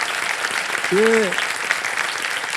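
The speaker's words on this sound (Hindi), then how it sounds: "मैं चाहूंगा कि तालियों के साथ उनका भी स्वागत किया जाए।" A game-show studio audience applauds to welcome a contestant's mother, steady clapping that fills the clip while a single voice briefly speaks over it.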